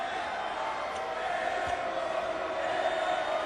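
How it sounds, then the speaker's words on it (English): Crowd noise from a packed basketball arena during a Texas Tech Red Raiders game, a steady loud roar of cheering and chatter with no breaks. "Good crowd here tonight for the Red Raiders, and they are into it."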